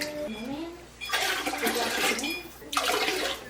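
Hot water gushes from a tap in two bursts, splashing into a jar, with a person speaking between and under the pours.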